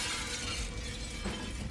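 Window glass shatters loudly as a chair is smashed through it in The Evil Within 2, a dense crash of breaking glass with scattered falling shards, heard alone.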